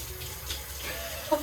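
Tap water runs steadily into a sink during hand washing in a home kitchen, a soft continuous gush close by with a brief clatter near the end, no voices.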